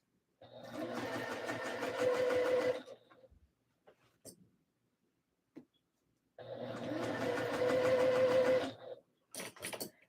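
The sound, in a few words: sewing machine stitching forward and back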